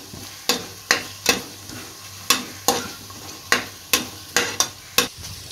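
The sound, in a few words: sautéing pandan leaves in a pan for ghee rice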